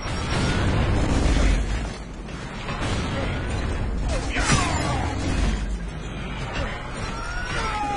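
A frag grenade explodes in Gears of War: Judgment, a deep rumbling boom followed by lingering game noise, debris and whooshing effects, with player voices audible around it.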